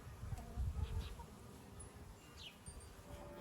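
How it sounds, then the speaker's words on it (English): Healthy bees hum and buzz around a hive outdoors, a faint, steady drone with a few brief bird chirps in the background. "a free hive full of bees that are healthy and happy"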